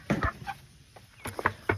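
Backyard chickens give a few soft, scattered clucks close by, short bursts separated by quiet gaps.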